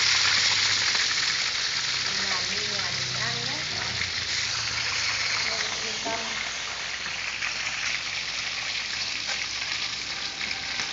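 Fish fries in a pan at a breakfast eatery, a loud continuous sizzle and crackle of hot oil that runs close and steady while people talk over it.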